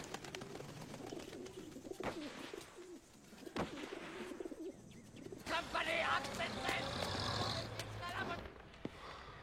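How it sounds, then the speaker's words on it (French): British homing pigeon cooing in a wartime action-film scene, soft repeated coos mixed with background noise, talk and a louder rushing burst partway through. "C'est un brave pigeon voyageur britannique."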